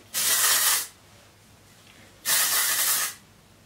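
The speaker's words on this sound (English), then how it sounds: "I just spray it literally into like my hairline." Two short hissing bursts of aerosol hair spray aimed at the hairline, each under a second, separated by a quiet pause, close by.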